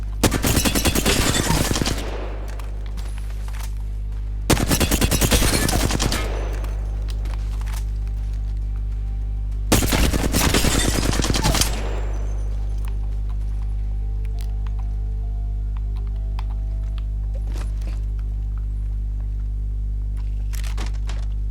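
Three rapid-fire bursts from an RE-45 pistol in Apex Legends, each lasting about two seconds and separated by pauses, sit over a steady low electrical hum.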